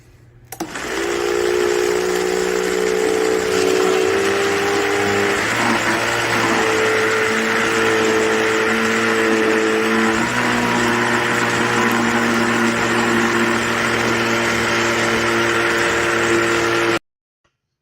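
An ice cream maker churns a batch of Heath and almond ice cream. Its motor whirs with a loud, steady hum that runs for about sixteen seconds, drops slightly in pitch partway through, then cuts off abruptly.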